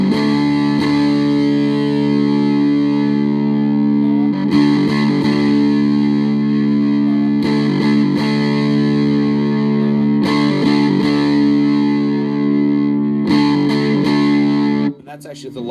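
Retro Effects fuzz pedal at a high distortion setting on electric guitar, with loud, thick, sustained fuzzy chords struck and held several times in a row and a brief drop in level at the end.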